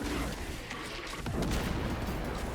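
Heavy Plasma Incinerator blasts in Space Marine 2, a dense rumbling barrage of booms and crackling bursts that stays loud throughout, with a sharper detonation near the middle.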